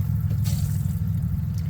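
Water runs through RV plumbing as a steady low rushing flow with a faint trickle on top, continuous and fairly close, no voices.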